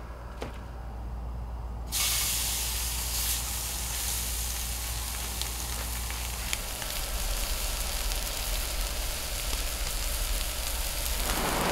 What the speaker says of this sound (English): y'all probably can hear the rain